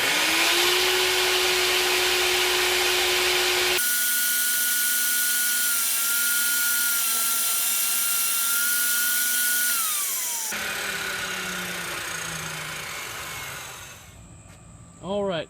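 A power saw cuts a flooring transition strip held in a gripper jig, a loud steady motor whine that shifts pitch as the blade bites, then winds down near the end.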